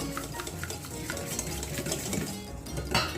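Egg yolks are beaten by hand in a bowl for Brazo de Mercedes custard, giving a rapid, steady clicking and scraping of a whisk or utensil against the bowl, with no talk.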